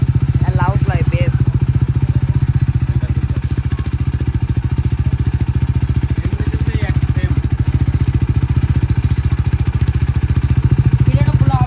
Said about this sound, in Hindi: तो अभी जो इसका साउंड है ये मेरे को पसंद नहीं आ रहा है, तो मैं सोच रहा हूँ कि ये वाला एग्जॉस्ट चेंज करा जाए